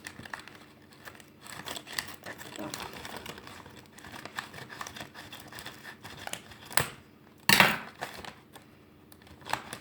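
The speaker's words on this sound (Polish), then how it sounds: "jak już jestem z nożyczkami, to możemy lecieć z otwieraniem" Scissors snip and crinkle through the plastic packaging of German chocolates, a run of small cutting and rustling sounds close by, with a louder crackling burst near the end.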